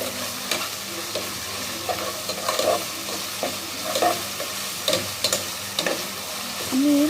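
Onion, ginger and plenty of garlic sizzle in a hot pan while being stirred, a continuous frying hiss with soft scraping strokes and occasional spoon knocks, close up and without talk.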